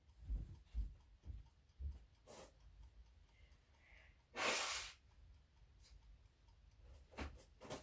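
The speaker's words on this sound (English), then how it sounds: "Now I have to blow my nose." A loud, rough nose blow lasting under a second, amid scattered soft ticks and clicks in a quiet room.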